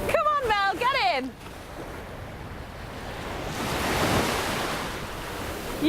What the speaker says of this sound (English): The waves are too strong.